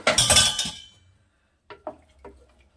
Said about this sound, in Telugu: మూత తీసి చూద్దాము